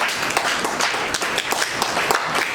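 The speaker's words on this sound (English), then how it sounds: "Applaud yourselves." An audience at a school awards dinner claps steadily, a dense crowd of hand claps filling the space without pause.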